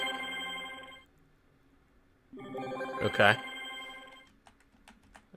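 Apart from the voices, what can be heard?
phone ringing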